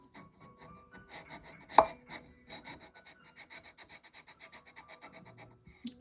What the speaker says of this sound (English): So I'm attempting to do this sanding without removing the nut because I would just rather not.